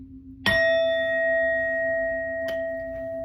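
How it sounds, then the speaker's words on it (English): A bell is struck once to cleanse tarot cards, giving a sharp attack and a clear, sustained ringing tone with bright overtones that rings steadily, with a faint second tap near the end. "We're going to hit this bell."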